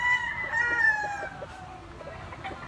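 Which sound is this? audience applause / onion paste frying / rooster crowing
rooster crowing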